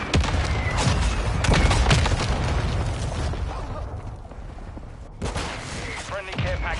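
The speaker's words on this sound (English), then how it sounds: "Friendly mortar strike inbound." Mortar strike explosions land in a Call of Duty match on the Shipment map as a dense run of loud booms and gunfire bursts, followed by a quieter lull and a few more blasts.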